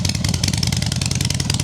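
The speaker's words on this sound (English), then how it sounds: "I think you can hear me over the exhaust." A 2016 Harley-Davidson Softail Slim with a Stage 1 tune and Bassani sweeper exhaust idles close by, a loud, deep, lumpy rumble that pulses steadily and fills the whole moment.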